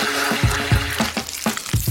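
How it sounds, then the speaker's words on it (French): Gelatin being whisked with sugar and water in a bowl, heard as a steady run of brisk, rhythmic strokes against a light hiss, close and fairly loud, with no talking. "Je vais mélanger la gélatine avec du sucre et de l'eau. Et je vais bien tout fouetter."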